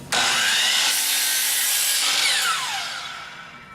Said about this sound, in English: I just bring it down until it touches the side of my miter saw